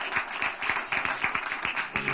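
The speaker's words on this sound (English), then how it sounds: "Let's give God a hand clap of praise." Church congregation clapping hands in praise, a fairly quiet, steady rhythmic clap close by.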